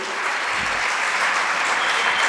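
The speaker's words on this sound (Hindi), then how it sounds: "उनके सम्मान में तालियां बजाइए" Audience applause at a spiritual discourse: dense, steady clapping from many hands fills the whole stretch at an even level, with no voices over it.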